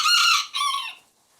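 A rooster crows once, loud and close, its call rising and then trailing off into quiet.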